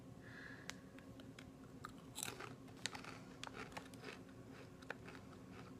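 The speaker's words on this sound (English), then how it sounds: "So let's try this cracker." Crisp bites and crunchy chewing on a spiced Taiwanese cracker, a few sharp snaps then steady quiet mastication, close and fairly soft with no talking.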